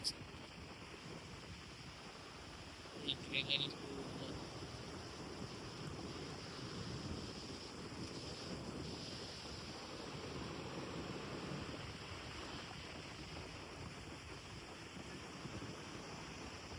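Sea waves wash onto the shore near Devgad in a soft, continuous roar, with wind buffeting the microphone and a brief clatter near the start.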